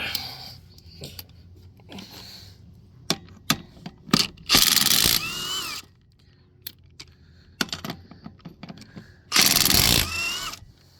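Ridgid 1/2-inch impact wrench on lug nuts of a one-ton Ford F350 truck, two loud sustained hammering bursts of about a second each, separated by clanks, clinks of metal and quiet handling noises in between.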